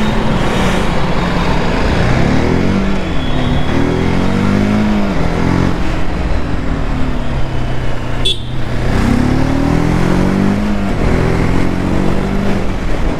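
A TVS Apache RTR 310 motorcycle is ridden, its engine droning loud and continuous with shifting pitch and rushing road and wind noise throughout.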